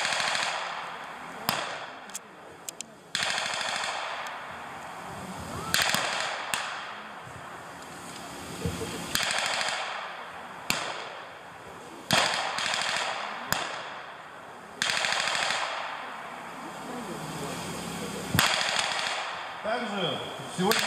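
Bursts of rapid MG-42 machine gun fire, fast rattling volleys separated by short pauses, loud and close, repeated many times.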